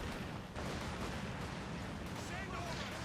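Sustained battle noise from Company of Heroes 2, with a Maxim machine gun suppressing a Panzer amid dense rumbling gunfire and artillery, loud and continuous with no clear separate bursts.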